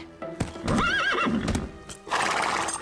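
A nervous cartoon horse neighs with a wavering whinny and snorts, with hoof clip-clops close by, ending in a loud burst of noise.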